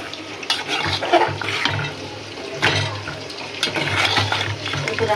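Water splashes and trickles into a pan of simmering amra curry with prawns, a steady pouring sound with soft sizzling bursts close by.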